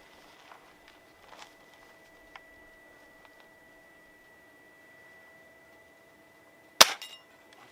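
A Gamo CFX .22 air rifle fires one sharp, loud shot near the end, with a brief metallic ring-off after a long quiet stretch holding only faint ticks and shuffles.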